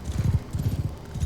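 Horse hooves clip-clop in a rhythmic galloping patter during mounted combat in the Bannerlord video game, close and steady across the short span with no talk.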